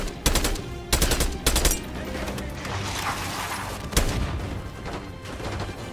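Gunfire in Call of Duty: Black Ops 6 comes as three loud bursts in the first two seconds, then a single sharp shot near the four-second mark, over a steady rumble of battle noise.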